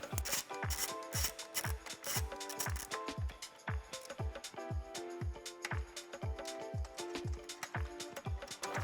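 An 8mm socket with a small extension working a bolt loose from under the headlight of a 2018-2020 Ford F150 during grille removal, a steady run of quick rhythmic ratcheting clicks, close and fairly quiet.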